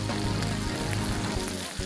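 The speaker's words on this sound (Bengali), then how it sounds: "এখন এখানে কিশমিশ কতগুলো ভেজে নিব ঘিয়ে, আর হচ্ছে বাদাম ভেজে নিচ্ছি।" Raisins and nuts fry in ghee in a nonstick pan, giving a continuous close sizzle with no pauses.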